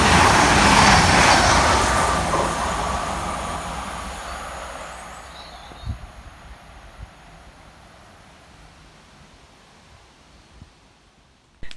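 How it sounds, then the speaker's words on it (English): An East Midlands Railway Class 222 diesel unit passes fast through Belper station, a loud rushing roar at the start that steadily fades into the distance, with no talking. "Passing fast for East Midlands Railway is 222020, working 1 Charlie 44 from Sheffield through to London St Pancras."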